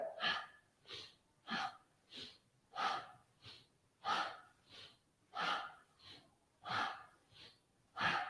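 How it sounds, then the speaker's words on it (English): Powerful, audible yoga breathing during a beginners' class, rhythmic forceful inhales and exhales repeating roughly every half second to second, close and fairly quiet, with no talk over them. "It's all right if you can hear your breath."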